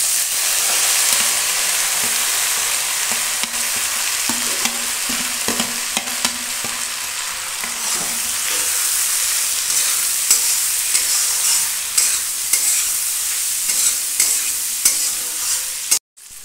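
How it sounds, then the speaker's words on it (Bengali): Chicken, shrimp and vegetables fry in a hot wok, a loud, continuous sizzle broken by repeated scraping stirs of the spatula throughout, with no voices. "সবজি, চিংড়ি মাছ, চিকেন দিয়ে দেবো কড়াইতে।"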